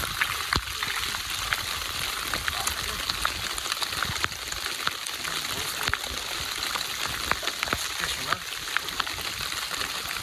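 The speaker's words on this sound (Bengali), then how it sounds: "আর বৃষ্টিও কিন্তু হচ্ছে, কলকল করে বৃষ্টি হচ্ছে।" Rain patters steadily in the Sundarbans beside a pond where people are hook fishing, a soft crackling hiss dotted with sharper drop ticks, fairly faint throughout.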